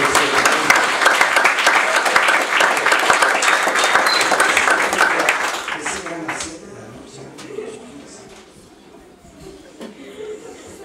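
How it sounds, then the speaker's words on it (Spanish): A church congregation breaks into loud, sustained applause for several seconds during a Spanish-language service, then it tapers off into scattered claps and murmuring voices. "le damos una fuerte aplauso a Dios"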